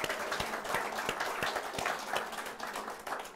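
Live audience at a Summerset event applauding for Kate Targett-Adams, a steady wash of many hands clapping at moderate distance, continuous for a few seconds without voices.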